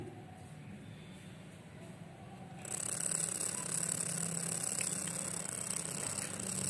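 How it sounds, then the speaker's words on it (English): A frequency generator vibrating at 33 Hz gives a steady mechanical buzz that sets in abruptly and keeps going, a rattling vibration with a faint hiss, close and continuous. "This is 33 Hz frequency, means 33 vibrations per second."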